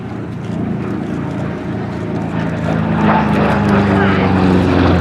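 A warbird propeller aircraft, a Thunderbolt-era fighter, flies past at the Flying Legends airshow at Duxford, its engine drone rising and growing louder toward the end, with a commentator's voice over the engine.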